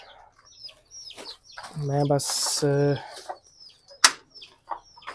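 A hen and her chicks cluck and cheep close by at feeding time, with a few short bursts of loud squawking amid the chatter, while someone speaks briefly.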